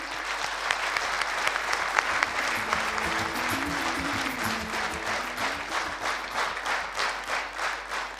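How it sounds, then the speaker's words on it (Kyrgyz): An audience at a memorial evening applauds in a theatre hall, sustained clapping from many hands that swells and then settles into a steadier, rhythmic patter, with faint voices underneath. "бир кол чабуулар болсун."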